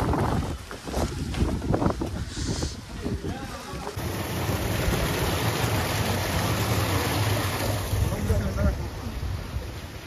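Strong wind roaring on the Kodachadri hilltop near the temple, a steady gusty rush buffeting the microphone, with someone talking briefly over it at the start.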